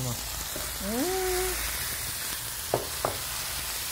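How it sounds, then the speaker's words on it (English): Steady broadband sizzle of green bean sides frying in a pan, with a few faint voiced sounds and two brief clicks near the end. "Sizzling up."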